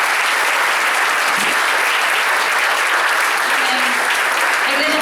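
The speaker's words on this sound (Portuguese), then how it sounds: "Aplauda Ele" A church congregation at a Sunday Assembly of God worship service breaks into loud, sustained applause that fills the room continuously from start to finish, with voices mixed into the clapping.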